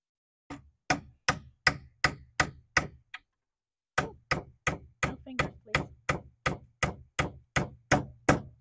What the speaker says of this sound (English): We use the hammer to tap that in.